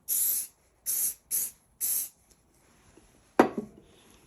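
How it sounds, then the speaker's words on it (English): Four short hissing bursts of Stick Fast accelerator sprayed from an aerosol onto a pen cap, evenly spaced, followed by a quiet pause and a sharper knock or clatter near the end. "I'm going to hit it with some of the stick fast accelerator."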